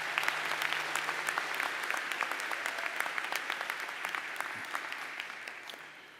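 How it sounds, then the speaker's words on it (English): Audience applause fills a nursing pinning ceremony hall, steady dense clapping from a sizable crowd that carries on for several seconds before gradually thinning and fading out. "How about a round of applause for their time?"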